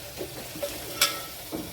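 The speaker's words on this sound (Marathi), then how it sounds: "याच्यात आपण आता हे भाजलेले वडे टाकून घ्यायचे आहेत. थोडे टाकून झाल्यानंतर चांगले मिक्स करून घ्यायचे" Fried chana dal vadas being stirred into a sizzling onion-tomato masala, with soft low sizzling and a few scraping stirs of a spoon, including one sharper clack near the middle.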